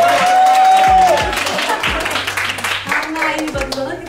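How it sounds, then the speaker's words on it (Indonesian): A small crowd claps on a casual video set, a short burst of applause mixed with a tonal musical backing and some voices over it. "Tepuk tangan dong"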